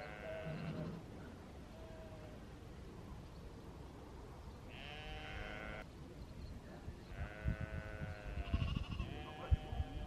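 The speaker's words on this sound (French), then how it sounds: "Voilà des moutons. Avec des petits agneaux comme ça." Sheep with small lambs in open countryside, bleating in several drawn-out calls from more than one animal at moderate distance, with quieter stretches between calls.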